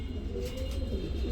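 Bombay golla pigeons at a pigeon sale give a brief, soft, low cooing over a dull background rumble.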